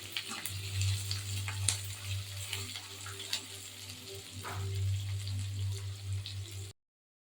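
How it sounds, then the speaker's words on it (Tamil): Garlic and onion sautéing in a pan for garlic chutney, a soft continuous sizzle with scattered crackles and spatula stirring over a low steady stove hum, ending in sudden silence. "பூண்டு வெங்காயம்லாம் நல்லா வதங்கணும் நல்லா வதங்கட்டும்"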